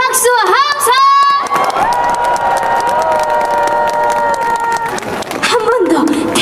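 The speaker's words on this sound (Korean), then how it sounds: "다 같이 박수와 함성!" A Christmas trot music concert crowd on a riverside in Ulsan bursts into sustained applause, cheering and whoops, loud and continuous, with shouting voices over the clapping.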